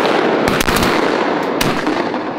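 Shotgun blasts while duck hunting mallards, gadwall, wigeon and teal in flooded willows in Arkansas: several sharp shots in quick succession over a loud, busy outdoor background, with two close together early and another a second later.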